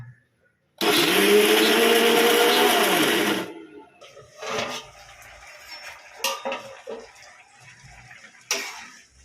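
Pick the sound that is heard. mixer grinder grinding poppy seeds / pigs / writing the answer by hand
mixer grinder grinding poppy seeds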